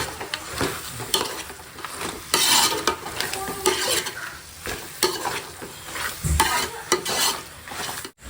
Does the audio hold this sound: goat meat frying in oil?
yes